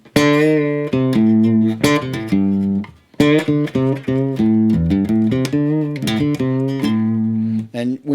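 A blues lick on bass guitar keeps returning to the flat five of the scale, with bent and pulled notes in a quick, continuous phrase. It is played alone and up close, with a brief gap near the middle.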